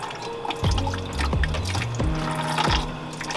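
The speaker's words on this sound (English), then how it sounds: "you get coolant all over your Nerf bars" Coolant splashes and drips from a Suzuki LTZ 400 ATV radiator as it drains, producing irregular liquid plops and trickles at close range that stay fairly prominent throughout.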